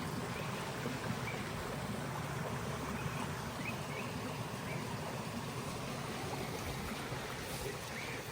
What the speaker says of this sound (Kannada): ನೋಡಿ ಇಷ್ಟು ನೀರು ಹರಿತಾ ಇದೆ